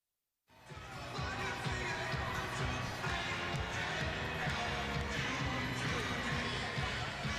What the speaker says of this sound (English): Crowd having some fun tonight at the Footprint Center